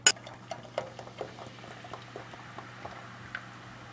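Coca-Cola soda boiling in a pot, with a steady stream of small bubbling pops and crackles close up, after one sharp knock at the start.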